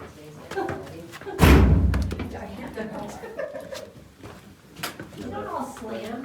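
A heavy door slams shut in an old reputedly haunted manor, a single loud, booming bang that rings out over quiet talk and footsteps in the dim interior.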